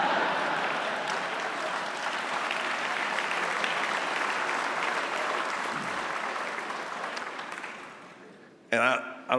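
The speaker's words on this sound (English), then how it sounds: "And I don't know why you applauded that" Sustained audience applause fills a large room after a governor's remark about New Jersey, steady and dense for most of the stretch, then tapering off as a speaker's voice comes in near the end.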